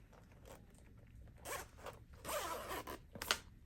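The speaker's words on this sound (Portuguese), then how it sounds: "Eu vou abrir o zíper." A zipper being pulled open on a handbag under construction, heard as several short, close rasping bursts with pauses between, fairly quiet, with no one speaking.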